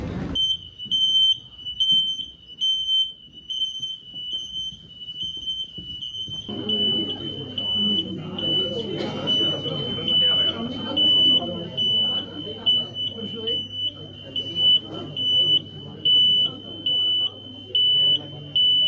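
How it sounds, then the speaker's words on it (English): A hotel fire alarm shrills at night in Italy, a loud continuous high tone with a pulsing beep pattern that runs throughout, joined partway by muffled voices and background commotion beneath it. "a fire alarm went off at our hotel"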